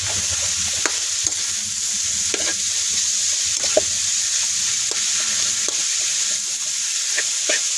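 Sautéed banana heart stirred in a pan: a loud, steady frying hiss runs throughout while light spatula scrapes and clicks recur every second or so, close to the listener, no voices.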